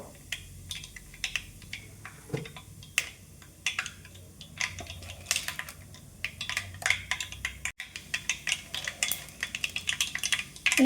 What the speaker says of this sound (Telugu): ఆవాలు చిట్పట్లు ఆడుతున్నాయండి